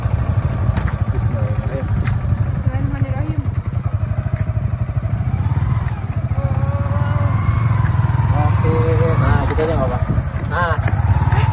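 Yamaha R15 V3 motorcycle engine running, a steady close throbbing idle that rises slightly at times, with people talking over it throughout.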